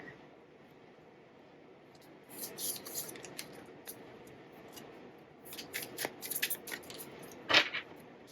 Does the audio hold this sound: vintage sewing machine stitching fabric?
no